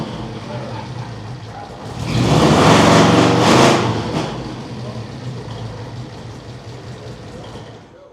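A small replica of an American car, built from shed materials, runs its engine with a surprisingly big sound, swelling loud for a couple of seconds before settling back to a steady idle.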